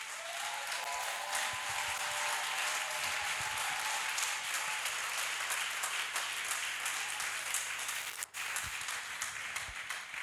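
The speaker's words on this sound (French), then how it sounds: "Si Jésus est doux, on va applaudir pour Jésus" A crowd at a Christian praise and worship concert claps and applauds steadily for about ten seconds, a dense continuous patter filling the room, with a faint voice briefly underneath.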